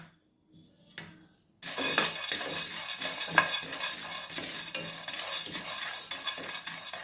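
Pumpkin seeds roast in a dry pan for healthy laddus: a few quiet clinks, then from about 1.6 seconds a steady scratchy stir-and-rattle of seeds with light metallic taps, close and continuous.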